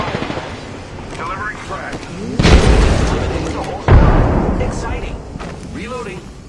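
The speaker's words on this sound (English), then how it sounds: "Frag out. Frag out. Grenade." A grenade explodes in a first-person shooter video game, heard as two heavy booming blasts a little over a second apart, each fading slowly, over background gunfire and game noise.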